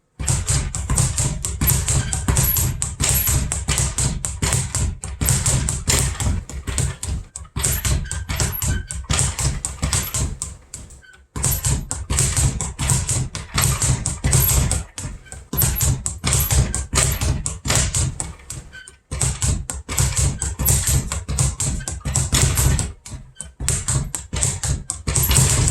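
A speed bag is punched in a fast, steady rattling rhythm, dense rapid thumps repeating for long stretches with a few brief pauses between bursts, close and loud.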